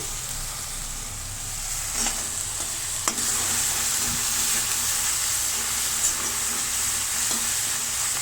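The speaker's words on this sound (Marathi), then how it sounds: "छान असं टोमॅटो परतून घ्यायचा आणि त्यामध्येच द्यायची कोथिंबीर टाकून" Tomato being sautéed with coriander in a pan gives a steady, close sizzle with occasional scraping stir strokes throughout, and no voices.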